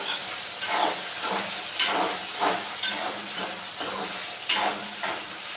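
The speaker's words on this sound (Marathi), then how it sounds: "हलकासा लाल झालाय आणखी जरासा फ्राय करूया आपण" Diced potatoes for sabudana khichdi fry in a pan with a steady close sizzle and hiss, broken every second or so by the scrape and clack of a spoon stirring the pieces. No one speaks.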